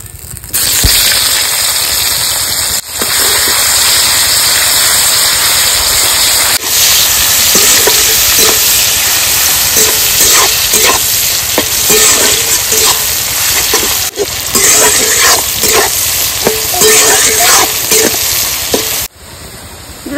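Chopped onion with bay leaf, dried red chillies and whole garam masala and cumin fry in hot oil, a loud, steady close-up sizzle with stirring scrapes, no voices.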